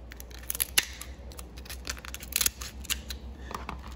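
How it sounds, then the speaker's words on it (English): Kitchen shears snipping down the backs of lobster shells, producing a close series of crisp, irregular clicks and crunching cuts with no talking. "we're gonna get our kitchen shears and we're gonna cut down the back and open those lobster up"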